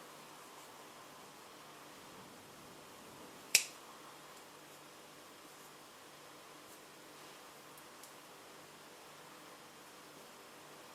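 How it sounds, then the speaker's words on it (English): Scissors snip off excess kumihimo braid cord in one sharp, close click in an otherwise quiet room, with a faint tick following a few seconds later. "I'm just going to take my scissor and go in and cut all the excess cord off"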